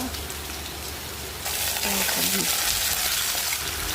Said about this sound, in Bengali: মাছের আলুগুলো ভেজে নিচ্ছি একটা করে